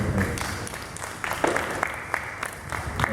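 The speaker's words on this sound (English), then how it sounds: "This is a round of applause" A conference audience at FID Networks Hub 2018 claps after opening remarks, a moderate, fairly close patter of many hands with distinct individual claps standing out, steady for a few seconds.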